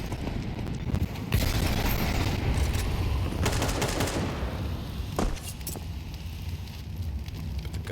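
Gunfire in a Counter-Strike match during a StarLadder Budapest Major 2025 game between Imperial and FlyQuest: a dense, continuous wash of shots and scattered sharper cracks, with no voices over it.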